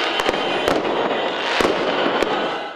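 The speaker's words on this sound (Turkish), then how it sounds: "Gecenin karanlığını havai fişekler aydınlattı." Fireworks burst over a nighttime street celebration after an election win, with several sharp crackling bangs and loud popping over a continuous roar of crowd noise.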